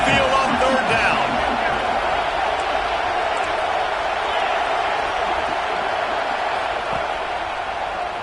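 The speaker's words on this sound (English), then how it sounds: "Here comes this home crowd as the defense tries to get off the field on 3rd down." Home crowd noise roars steadily in a college football video game matchup between Georgia and Penn State, a dense sustained cheer on third down with no one speaking over it.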